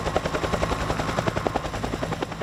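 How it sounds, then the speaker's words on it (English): Two Vietnam-era American Huey 369 helicopters pass overhead in Findlay, their rotors thumping in a steady rapid beat, loud and unbroken throughout. "These two Vietnam-era American Huey 369 helicopters flew overhead in Findlay Friday."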